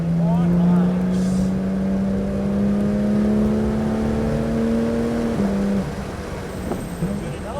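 A Porsche GT3 RS engine pulls steadily on a race track, its rising harmonic drone holding loud and near for several seconds before easing off, with an instructor's voice talking over it.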